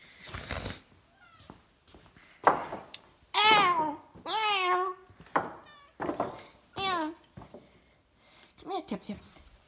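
A cat meows repeatedly, with drawn-out, wavering calls alternating with bursts of nearby talking.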